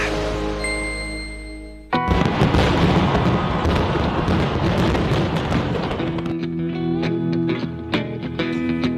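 Loud Christmas and New Year fireworks crackle and burst continuously, a dense barrage of popping explosions that thins into scattered sharp bangs.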